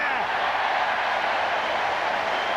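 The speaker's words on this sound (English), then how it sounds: "Sympathetic applause as well from other fans around the ground." A rugby league crowd at Salford City Reds against Warrington applauds steadily around the ground, an even wash of clapping with a commentator talking over it.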